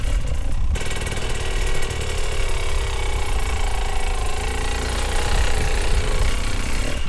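A dirt bike engine runs loud and close during hard enduro riding, a raspy continuous drone with slight rises in revs as the clutch is worked.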